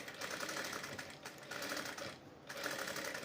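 Sewing machine stitching a work blouse, a steady close whir of continuous stitching with two short pauses, no talking.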